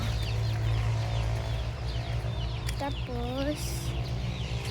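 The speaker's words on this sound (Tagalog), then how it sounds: "Manok yan ni Papa." Chickens cluck softly over a steady low engine-like hum, with a brief bird call near the end; a voice speaks briefly.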